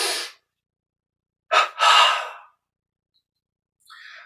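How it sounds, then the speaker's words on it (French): During a meditation exercise, a person takes a double inhale, two quick breaths drawn in one after the other, close and clear, between a brief exhale at the start and a faint breath at the end. "Une double inspire."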